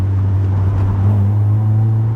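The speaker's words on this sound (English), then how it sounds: "it's a nice exhaust, just needs to come out and down a bit" An MG ZR 105 hatchback drives along with a low, steady exhaust drone, a smooth deep hum holding an even pitch with no voices over it.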